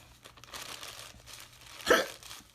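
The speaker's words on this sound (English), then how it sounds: "Them hiccups got a spicy burn to them." A single sharp hiccup from a man doing a spicy noodle challenge, a loud burst standing out near the end of quiet room sound with no talk.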